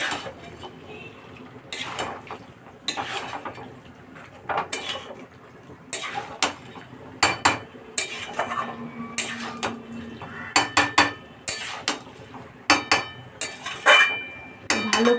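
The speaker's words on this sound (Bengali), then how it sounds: "ভালো করে আমি নেড়ে চেড়ে দিলাম।" Jackfruit and potato curry stirred in a cooking pot, a series of sharp metallic scrapes and clanks from the spoon against the pot at irregular intervals, close and clear with no talk.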